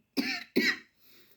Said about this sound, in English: I come out and I just start coughing these days